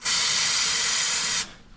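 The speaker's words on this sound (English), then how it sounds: "Brake clean." A can of brake cleaner sprays in one loud, close hiss lasting just over a second, then cuts off, leaving faint background noise while an HQ Holden sits in the garage refusing to start.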